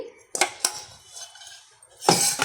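Boiled tamarind pulp added to a pan for bean (chikkudukaya) pachadi, giving a few sharp metallic clanks of a utensil against the pan with soft scraping between, close and fairly loud.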